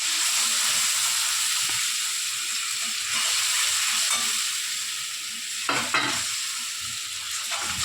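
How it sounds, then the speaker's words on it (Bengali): Onion, garlic and chili paste with sour yogurt frying in a pan, a steady, close sizzle that holds throughout, broken by brief stirring scrapes. "ভালো করে কষিয়ে নেব।"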